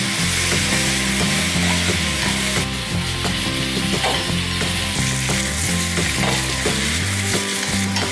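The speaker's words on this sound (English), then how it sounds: "stir fry pork again" Pork stir-fries in a pan for a Vietnamese caramelized pork dish, giving a steady, close sizzle with stirring scrapes and a soft tonal backing throughout, no voices.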